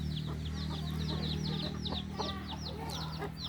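Chickens in cages and nets at a poultry yard cluck continuously, with short overlapping calls close by over a steady low hum.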